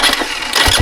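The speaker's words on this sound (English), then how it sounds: "Engine turns over." Dirt bike engine turning over on a trail after a repair, a brief loud burst of starter churn and catching engine noise up close, cut off within a second.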